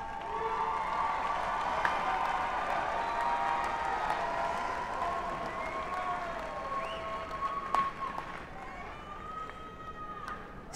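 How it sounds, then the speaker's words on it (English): Graduates at a university undergraduate commencement applaud their families, a broad, steady wash of crowd clapping with cheering and voices over a large outdoor or hall setting, continuing for about ten seconds. "graduates, turn around, look up above, and give those folks a round of applause"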